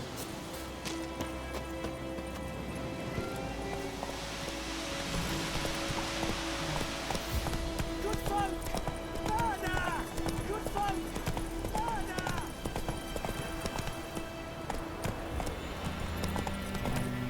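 Horse hooves in The Witcher 3 video game clop steadily through a busy scene, with ambient game sounds and music around them and characters speaking over the top.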